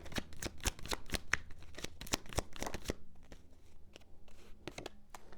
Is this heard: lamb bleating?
no